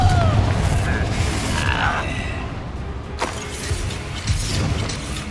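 Explosive Confringo spells going off in Hogwarts Legacy, with loud booming blasts and crackling bursts over dense, continuous game combat noise.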